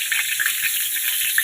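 Whole spices tempering in hot white oil and ghee sizzle and crackle steadily, a close, continuous frying hiss with small pops scattered throughout and no voices.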